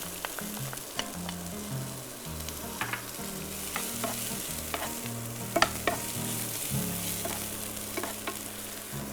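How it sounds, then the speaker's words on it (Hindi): Chopped onion and garlic sauté in a pan with a steady close sizzle, broken by scattered clicks and scrapes of stirring throughout, with no voices. "अनियन को ज़्यादा कुक नहीं करेंगे, बस थोड़ा सा हल्का सा स्वेट कर लें"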